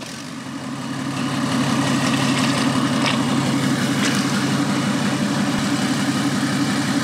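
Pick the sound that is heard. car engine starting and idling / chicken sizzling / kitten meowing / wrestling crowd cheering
car engine starting and idling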